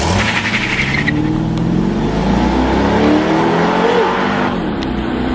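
A Chevrolet Corvette C5 engine revs hard and accelerates, its deep roar rising in pitch through the gears, loud and close throughout.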